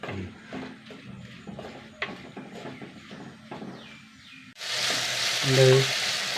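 Ingredients for a village-style curry are sautéed in a pan until wilted. Spatula clatter and stirring give way to a loud, steady sizzle in the last couple of seconds, with no talking.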